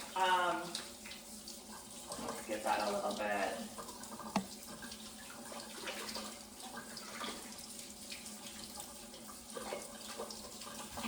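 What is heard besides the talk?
running tap water rinsing quinoa in a strainer at the sink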